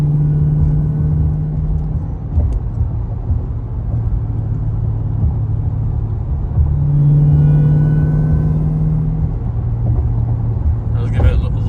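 An AWD Chrysler with straight-pipe exhaust and new fuel pumps rumbles with a deep, steady drone while driving, swelling louder partway through as it pulls ahead in traffic.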